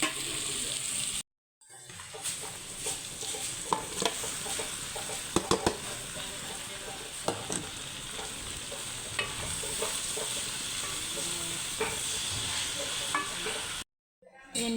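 Onions and carrots sauté in a pan for callos with a steady sizzle and frequent scraping and clinking as the spatula stirs. The sound cuts out briefly near the start and again near the end.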